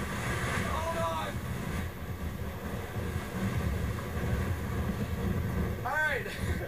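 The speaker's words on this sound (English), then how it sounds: "Wow, that was a heck of a gust." Strong hurricane-force wind gust during Hurricane Ike, a steady loud roar buffeting the microphone throughout, with brief voice sounds rising over the rushing noise.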